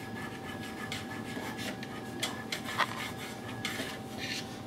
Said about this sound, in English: the heating plate will now move into position where you can use the cleaning tool to scrape away